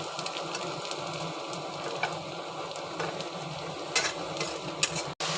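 Garlic and onions fry in a pan with a steady, close sizzling hiss and occasional light scrapes and clicks from stirring; no one speaks.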